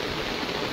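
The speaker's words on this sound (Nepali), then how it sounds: "पानी धेरै परिरहेछ।" Heavy monsoon rain in Dhangadhi, Nepal, with streets flooded, pours as a steady, dense hiss of falling and running water, even and continuous with no voices.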